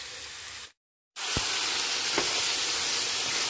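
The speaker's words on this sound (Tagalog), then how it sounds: "Sibuyas, kamatis, bawang na yung ginigisa ko." Onion, tomato and garlic sizzle steadily in a hot pan, a dense continuous frying hiss that cuts out briefly and resumes, with a couple of soft stirring knocks.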